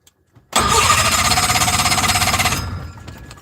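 A small airplane engine cranks after priming, starting abruptly with a loud, close, rapid chugging pulse that lasts about two seconds and then winds down without catching.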